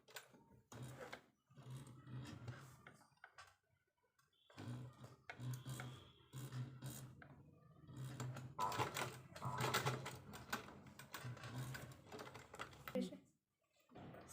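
A sewing machine runs in bursts, stitching a zipper onto a baby frock, its rapid mechanical whirring starting and stopping between short pauses while a person talks over it.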